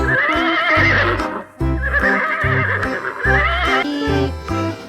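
Toy horse giving a loud electronic neigh and whinny, repeated three times with brief pauses, close and clear with no talking over it.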